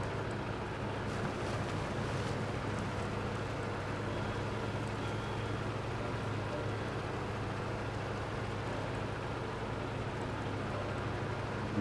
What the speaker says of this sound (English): I'll head back through the water.